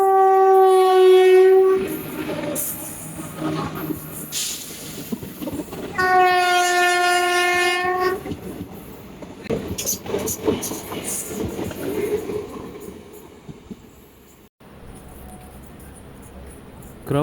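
An express train horn blares in two long, loud blasts, followed by the rumble and rhythmic clatter of the train rushing past close by, near Puducherry, India.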